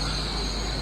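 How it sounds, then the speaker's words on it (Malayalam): A Great Western Railway train to Reading rumbles steadily close by as it arrives at a station platform, with a high steady whine over the low rolling noise, no voices. "ട്രെയിൻ വന്ന്"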